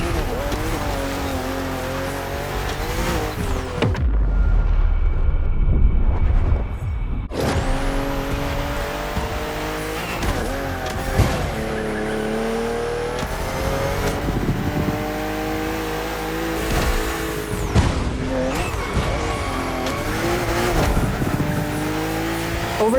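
Racing cars in The Crew Motorfest, a BMW among them, accelerating on a narrow track full of sharp bends: constant loud engine whine rising and falling through gear changes and revs, with tire squeal and a brief dip before the engines surge again.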